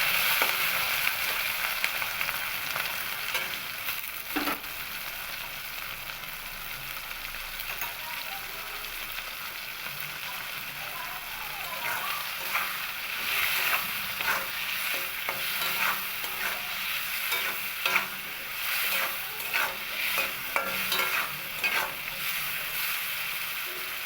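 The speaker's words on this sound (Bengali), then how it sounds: "এতে সামান্য আমি লবণ হলুদ দিয়ে হালকা ভেজে নেব।" Prawns coated with salt and turmeric fry lightly in oil, a steady close sizzle with frequent clattering stirs of a utensil against the pan that grow busier toward the end.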